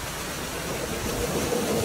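Water from a waterfall pours steadily onto a Scorpio SUV with its sunroof shut, a dense, continuous hiss and drumming of spray that stays loud and constant without any talk.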